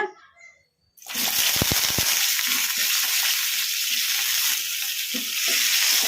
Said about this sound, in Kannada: ಎಣ್ಣೆ ಕೂಡ ಬಿಸಿಯಾಗಿದೆ ಈಗ ಇದಕ್ಕೆ ನಾವು ಕಟ್ ಮಾಡಿ ಇಟ್ಕೊಂಡಿರೋ ಬದನೆಕಾಯಿ ಹಾಕೋಣ